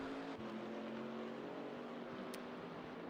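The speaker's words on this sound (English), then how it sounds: "Very, very good looking car, and good sounding car that is." Chevrolet Camaro ZL1 GT4R race car on a wet Donington Park circuit, its engine a steady loud drone with a sustained mid-pitched tone throughout, broad road and track noise around it and no talk.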